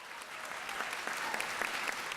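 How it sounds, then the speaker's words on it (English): Schoolchildren and guests applaud at a school awards event, a fairly faint, steady wash of clapping heard from a distance. "Give yourself a round of applause."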